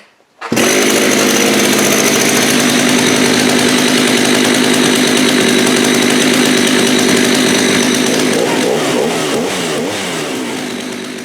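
An older McCulloch chainsaw engine fires up and runs loud and close for about ten seconds, a harsh buzzing two-stroke drone with a slight waver in pitch toward the end.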